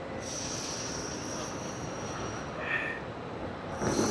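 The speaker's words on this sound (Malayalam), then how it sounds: "ഇത് നല്ല തിരക്കുള്ള റെയിൽവേ സ്റ്റേഷനാണ്" Trains at a busy railway station in Munich: a steady rolling rumble of railcars with a faint wheel squeal rising briefly near the end, continuous and moderately distant.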